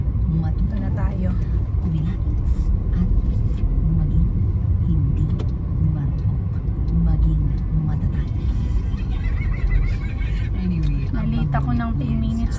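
Heavy road traffic rumbles continuously nearby, cars and buses droning with engine noise, while someone talks over it throughout.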